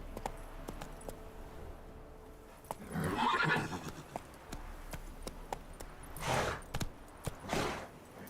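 Roach, the horse in the Witcher 3 video game, gives a loud whinny partway through, followed by more neighing and a few hoof clip-clops, set against a low in-game ambient background.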